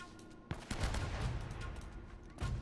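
Gunfire in the video game Uncharted: Drake's Fortune, a burst of rapid shots with sharp onsets near the start and end, fairly quiet in the mix, with no talk over it.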